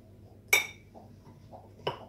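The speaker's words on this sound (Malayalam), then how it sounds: "ഇനി നമുക്ക് ജസ്റ്റ് ഒരു സ്പൂൺ എടുത്ത് അങ്ങ് മിക്സ് ചെയ്തേക്കാം" A spoon clinks against a jar or bowl while mixing asafoetida into orange peel pickle, with two sharp metallic taps about a second apart and soft scraping between them.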